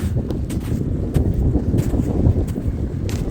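Strong wind on an open mountain saddle near the Velykyi Verkh peak in the Borzhava ridge buffets the microphone in a steady low roar, with brief gusty bursts and rustling throughout; no voices.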